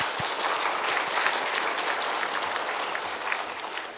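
Steady applause from a church congregation, dense clapping that continues evenly for several seconds without a break.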